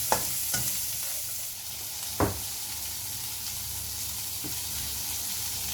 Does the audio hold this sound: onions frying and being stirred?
yes